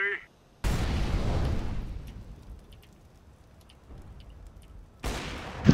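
An incendiary grenade goes off in Counter-Strike: Global Offensive with a sudden loud burst that fades into a crackling burn, followed by a second loud burst near the end.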